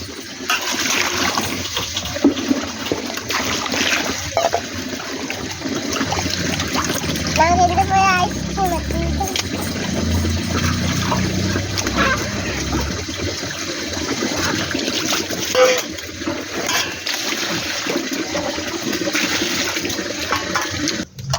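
Water runs steadily from a tap as hands are washed at home, a continuous splashing rush under the sound of people talking nearby, with a voice among them.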